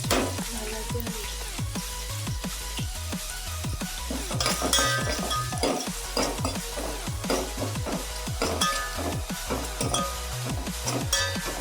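Medium onions with curry leaves sizzle steadily in a pan for Kolhapuri misal, while a spoon clinks and scrapes against the metal in an irregular stirring rhythm, close and continuous.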